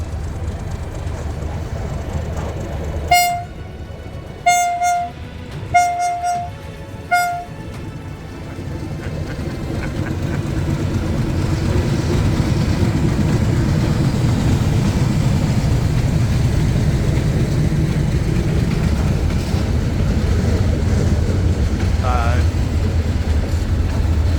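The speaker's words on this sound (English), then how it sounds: "Our train has stopped on a sideline as a freight train passes" A heavy freight train rumbles past close by as a passenger train waits on a sideline in Cambodia, a steady, loud low roar that builds and holds for most of the clip after a few brief tones at the start.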